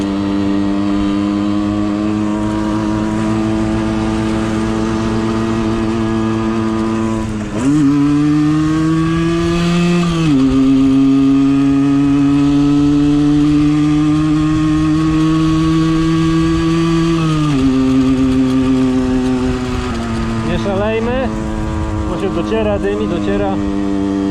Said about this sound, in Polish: problem tego motorka, że jak nie wkręcimy w rezonans, to nie ma jazdy.